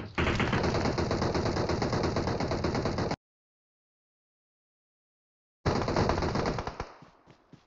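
Automatic gunfire in the video game PUBG rattles in two dense, loud bursts separated by a few seconds of silence, the second fading out in scattered shots.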